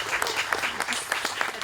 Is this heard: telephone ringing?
no